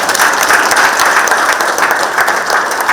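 A meeting audience applauds loudly and steadily at a governor's town-hall gathering in Yeongju, the dense clapping holding an even level from start to finish with no voices over it.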